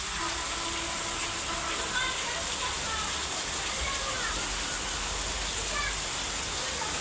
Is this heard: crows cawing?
no